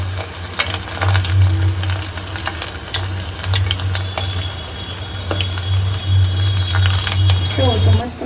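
Small undhiyu dumplings frying in hot oil over a low gas flame, a dense continuous sizzle with crackling pops throughout, fairly loud and close, and a low hum running underneath.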